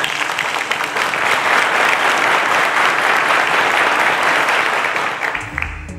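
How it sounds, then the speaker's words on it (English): A studio audience at a school quiz show claps loudly and steadily for several seconds before the applause fades and a voice begins speaking. "A round of applause, ladies and gentlemen."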